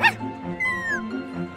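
Puppies in the Minecraft Story Mode video game, yipping and whimpering in a short burst of high barks and a rising whine, close and clear over a low musical background.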